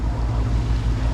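A sailboat with its sails up runs under engine, giving a constant low rumble mixed with wind and water rush that stays loud and steady across the short stretch, with no voices.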